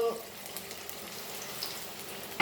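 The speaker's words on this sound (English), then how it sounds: "fry this till it is golden brown" Goan beef and potato chops frying gently in oil, a soft, even sizzle heard up close throughout the short stretch, with a faint clink at the end.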